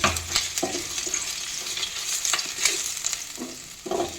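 Garlic and ginger paste sizzles in hot oil while a spoon stirs and scrapes the pan in repeated short strokes, close and steady, with no voices.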